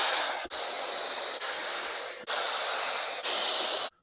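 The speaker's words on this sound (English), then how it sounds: "let's give her a little test spray" A paint spray gun hisses loudly in four or five test bursts onto a 1969 Camaro's fiberglass hood, each a steady spray broken by short pauses.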